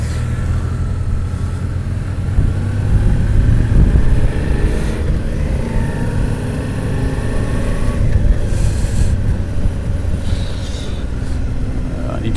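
Suzuki V-Strom 650 motorcycle lapping the Midland Circuit in Lelystad, its engine droning loud and steady under wind rush with a rise in revs partway through, while a rider's voice talks over it.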